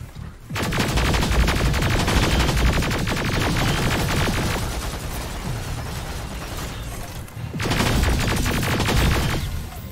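A rapid-firing weapon in the shooter Terminator: Resistance unleashes a loud, continuous stream of gunfire, breaking briefly before another burst.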